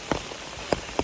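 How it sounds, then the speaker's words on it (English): Rain on a trail during a thru-hike of the Appalachian Trail, heard as a few distinct drops pattering nearby against a faint steady background. "Here comes the rain again"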